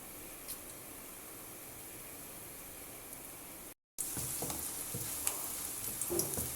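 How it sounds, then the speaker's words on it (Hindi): Dahi phulki fritters frying in oil over a low to medium flame, a quiet steady sizzle that cuts out briefly, then returns with light clinks and scrapes of a spoon turning them. "लो से मीडियम फ्लेम पे मैं इनको फ्राई कर रही हूँ"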